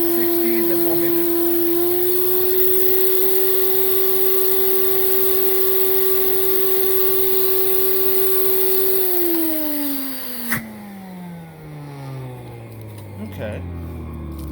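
A Hoover Celebrity Quiet Series vacuum cleaner, an older machine with a hose taped on and an air leak, runs on low speed with a steady motor whine that drops in pitch as it winds down near the end.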